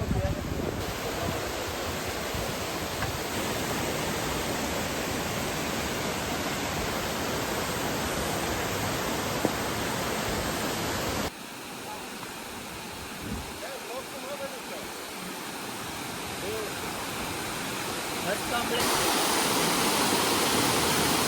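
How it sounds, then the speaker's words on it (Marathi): Close, steady rushing of water pouring over a small waterfall on Darya Ghat near Junnar, a dense continuous roar that briefly softens midway before swelling again. "पाच ते सात मिनिटावर आपल्याला छोटासा वॉटरफॉल लागलेला आहे"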